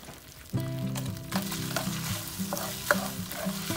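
Chiles, garlic and pepper sizzle and fry steadily in a pan for ranchero-style shrimp, a close continuous crackle with occasional stirring scrapes and clinks, no voices.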